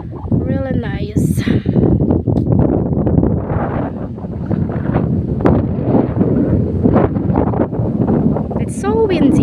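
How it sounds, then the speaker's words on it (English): Strong, cold wind at Tagaytay Highlands buffets the microphone with a loud, continuous roar and rumble, while people talk excitedly over it throughout. "It's so windy, it's cold."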